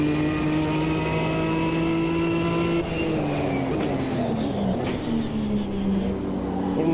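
A Ginetta and a McLaren race side by side at Snetterton in Automobilista 2, their engines droning loud and close, pitch dipping under braking and climbing again, layered over a constant mechanical whine, with no voices.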